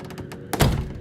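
A door shuts with a single solid thunk, preceded by a few soft knocks or creaks, close and fairly loud, with a brief low resonance trailing off afterward and no voices.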